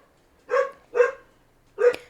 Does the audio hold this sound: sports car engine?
no